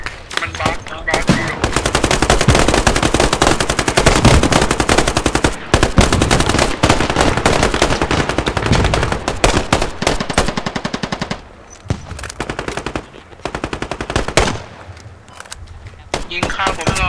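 Sustained automatic gunfire in the military shooter Squad rattles in long, dense bursts nearly nonstop, loud and close, easing near the end with a few sparser shots, while players talk over the shooting.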